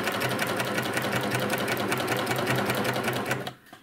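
A sewing machine runs steadily, stitching binding around an outer curve of fabric, a fast even whir of needle strokes that stops abruptly near the end with no talking.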